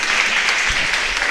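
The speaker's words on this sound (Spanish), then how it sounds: "Un fuerte aplauso para Darío." An audience at a philosophy congress applauds loudly and steadily, a dense wash of clapping with no break and no voices over it.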